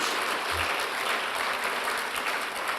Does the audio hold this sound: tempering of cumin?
no